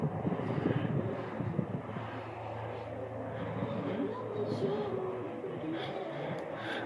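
A 1969 Corvette's 383 stroker V8 runs with a steady, low rumbling drone, fairly quiet and continuous, with some wind buffeting over it.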